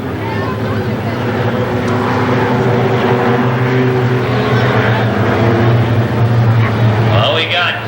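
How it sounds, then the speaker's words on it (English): Stock 4 class race cars at Winchester Speedway rumbling as they prepare for the race start, a loud, continuous engine drone with steady tonal roar, an announcer talking over it. "The stock 4s, let's listen to them as they get ready to start this race."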